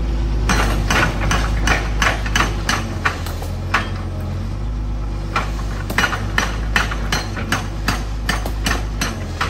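An excavator-mounted hydraulic breaker pounds the concrete of a temple in clustered bursts of sharp, ringing strikes over a heavy engine drone, with a short lull between runs and no speech.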